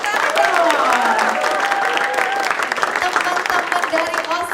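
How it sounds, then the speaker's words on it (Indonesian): Audience clapping at a high school event, dense applause mixed with crowd noise and cheering voices, loud and sustained throughout. "Wow, tepuk tangan dong."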